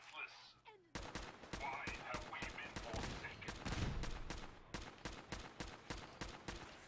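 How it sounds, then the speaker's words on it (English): Rapid automatic gunfire from Fallout 4 combat against robots, a dense run of loud evenly spaced shots continuing almost without pause after a quiet start. "just stand on the building and shoot up all the robots"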